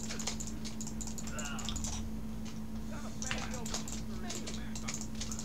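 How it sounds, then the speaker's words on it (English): Computer keyboard keys pressed while playing GTA San Andreas, a steady run of quick light clicks and taps going on throughout under a constant background hum, with a voice talking at times. "I have to be careful where I'm pressing the keys, man."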